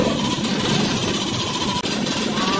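A generator set runs loud and close with a dense, steady engine roar and vibration throughout, one brief dip partway through, no talking over it.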